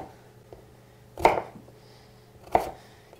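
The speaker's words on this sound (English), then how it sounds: "I'm going to chop them up like this." Prawns and bacon are chopped with a knife on a board, two sharp, close thuds about a second and a half apart against a quiet kitchen background, with no voices.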